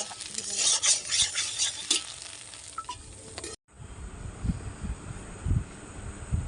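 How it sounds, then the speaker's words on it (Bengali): Eggs and potatoes fry in a pan with a bright, hissing sizzle and quick stirring clatter, close by, then a sudden cut to quieter frying with low thumps and clinks. "এখানে দেখো ডিম আর আলু ভাজা হচ্ছে ভালো হচ্ছে"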